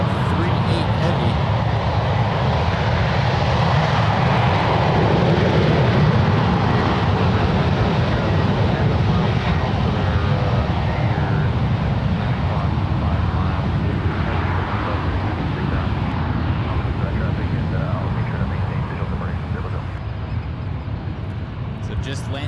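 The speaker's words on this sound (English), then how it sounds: "The big plus with Swiss Airlines 777-300ER coming in from Zurich." A Swiss Airlines Boeing 777-300ER arriving from Zurich lands at San Francisco International Airport, a steady broad jet roar holding loud throughout and fading slightly toward the end.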